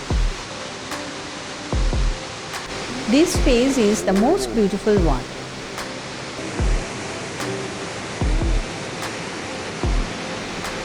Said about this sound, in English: At this point, the waterfalls is falling from the highest rocks